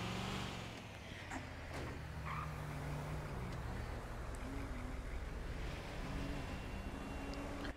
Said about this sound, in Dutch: Klinkt een beetje als zo'n stadsbus.